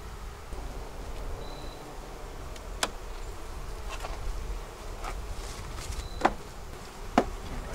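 Honey bees hum steadily around an opened beehive during winter preparation, a continuous close buzz with occasional sharp clicks and knocks of hive boxes being handled.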